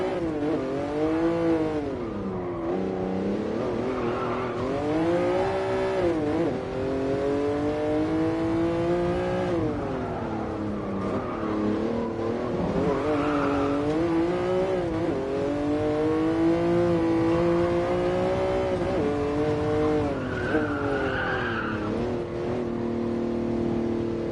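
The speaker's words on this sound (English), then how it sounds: "the engine's roaring in my ears" A Jaguar XJ13 race car engine in GT Sport on the Nordschleife, a loud continuous roar that rises and falls in pitch through repeated gear changes and acceleration, close and dominant with no talk.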